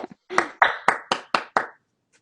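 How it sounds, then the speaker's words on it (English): A small group of online lecture participants clap together over an audio call, a few scattered claps followed by about five distinct bursts in a loose rhythm, fading out after under two seconds. "Let's do a group applause."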